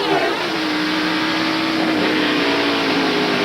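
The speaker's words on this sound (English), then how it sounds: "There we see Kendall downshift the second gear" A NASCAR stock car at the 1993 Save Mart Supermarkets 300 roars steadily at close range, its engine note holding high and then sliding slightly as it shifts down into second gear, with no voices over it.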